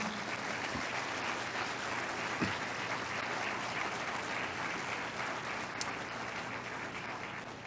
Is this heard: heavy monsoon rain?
no